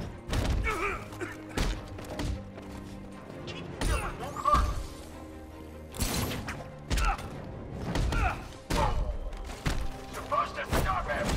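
Punches and strikes thud and crack in Batman: Arkham Knight, the Azrael Crime Alley challenge, against thugs including an electrified enemy, a string of heavy impacts and crashes at irregular intervals with game noise and some voice between them.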